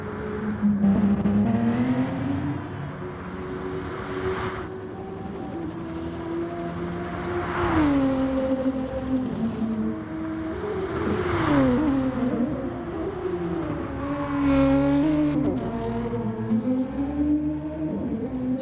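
Gr3 race cars circle Sardegna Road Track A in a racing video game, their engines a continuous loud whine that climbs and falls in pitch through gear changes, with several cars sweeping past in overlapping waves.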